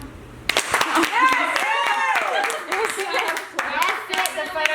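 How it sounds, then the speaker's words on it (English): Scattered hand claps from a small crowd at a PowerPoint night, sharp and uneven over a few seconds, mixed with people chatting and calling out nearby. "Can I have a clap?"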